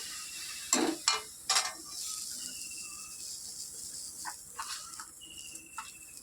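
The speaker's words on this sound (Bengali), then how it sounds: "এবার একটু টকটা একটু ফুটতে দিতে হবে" Tamarind sour curry with mola fish simmers in a pan, giving a soft, steady sizzle and bubbling hiss, with a few louder clinks near the start and scattered small pops throughout.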